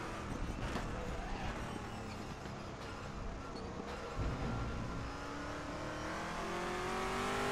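Saleen S7R race car roaring around the Sepang circuit in the RaceRoom racing game, a loud continuous engine drone rising in pitch through the gears, with a brief tire squeal and steady high revs throughout.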